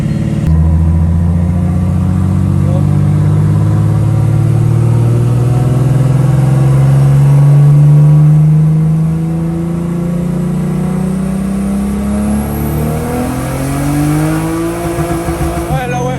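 Loud, sustained engine drone from a turbocharged BMW E36 whose slipping clutch lets the revs climb slowly and hold high, the pitch rising steadily then wavering near the end, with voices over the sound.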